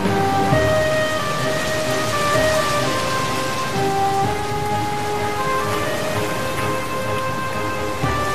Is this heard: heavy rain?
yes